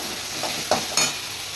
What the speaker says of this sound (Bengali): আলুটা টমেটোটা আগে দিয়ে দিচ্ছি এটাকে একটুখানি সাঁতলে নেবো